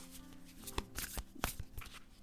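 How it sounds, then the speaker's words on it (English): An oracle card deck is shuffled close by, a run of soft papery riffles and crisp slaps spaced unevenly, quiet and alone. "I'm also shuffling the Oracle deck to see what cards want to come out today."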